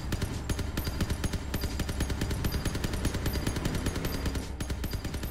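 Legendary M-39 machine gun firing in Crossout, a rapid, steady stream of loud automatic shots with no pause, close and dominant throughout.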